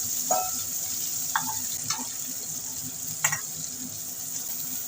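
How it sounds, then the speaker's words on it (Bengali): Boal fish fries in oil in a pan with a steady, hissing sizzle. A few sharp clinks and scrapes of utensils stand out over it. No speech. "বোয়াল মাছ বন্ধুরা ফাটতে পারে সেই কারণে মাছটাকে একটু ঢাকনা চাপা দিয়ে দিয়ে ভেজে নিতে হবে"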